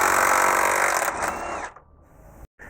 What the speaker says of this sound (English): we'll go ahead and just impact this off